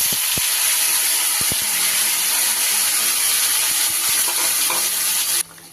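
Marinated hilsa fish frying in hot oil in a kadai gives a loud, steady, close sizzle with a few sharp ticks and pops, cutting off abruptly near the end.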